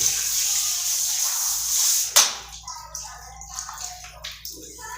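Hot water runs steadily from a tap into a bathtub, then cuts off with a splash, followed by scattered drips and small sloshing sounds.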